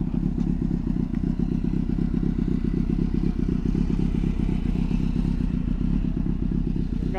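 A motorcycle engine idles and revs continuously up close, a loud low rumble with rattling mechanical clatter throughout.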